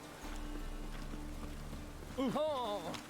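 Rain falls steadily in The Witcher video game, a soft even patter under a low ambient hum, with a voice speaking briefly near the end.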